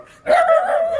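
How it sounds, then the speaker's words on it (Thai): A single dog barks once, loud and close, a short yelping bark that trails off briefly in a rural village of the Bru people in Khammouane, Laos. "หมาก็เห่าว่าตกแล้วเนาะ"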